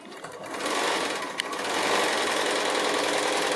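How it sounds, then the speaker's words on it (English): A sewing machine stitches across a foundation-pieced quilt block in one steady, close, fast run of needle chatter lasting a few seconds, with no talking. "So I'm going to go ahead and stitch across that line."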